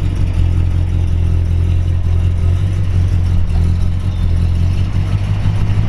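A 1968 Dodge Coronet R/T convertible with a 440 four-barrel V8 and four-speed idles and creeps along as it is turned around in a park, a loud, steady, deep rumble with no talk.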